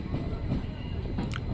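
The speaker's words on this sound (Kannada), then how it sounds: "ನಮ್ಮ ಟ್ರೈನ್ ಈಗ ನಾಲ್ವಾರ ರೈಲ್ವೆ ಸ್ಟೇಷನ್ ಒಳಗಡೆ ಹೋಗ್ತಿದೆ" A passenger train on the Bidar to Bangalore route rolls slowly into Nalwar station at night, a low rumbling clatter of wheels and car noise inside the coach with a brief higher screech.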